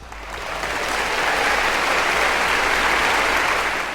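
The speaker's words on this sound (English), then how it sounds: "so can I please get a round of applause?" A round of applause from a crowd, a smooth dense roar of clapping that swells in during the first half second and then holds steady and fairly loud.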